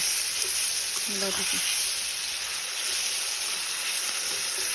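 Chopped tomatoes and green chillies with masala sizzle and fry in a pan as they are stirred, a steady hiss throughout with a brief scrape of the spoon near the middle.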